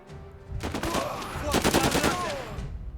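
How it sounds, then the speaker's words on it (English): Lewis gun fire in a World War-era train strategy game, with loud rapid bursts of machine-gun shots layered with other gunfire and a brief voice under the battle noise. "Our Lewis gun is about to open up."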